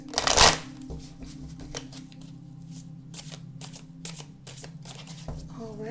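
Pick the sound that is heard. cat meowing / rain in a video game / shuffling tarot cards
shuffling tarot cards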